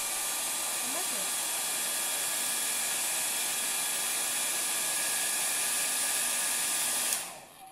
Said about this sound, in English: then I use the hair dryer I have here, and I blow on it